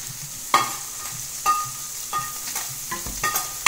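Fruit going into a sweet potato hash frying with sage in a pan, a soft steady sizzle broken by several distinct stirring scrapes and clatters, close and fairly quiet with no talk.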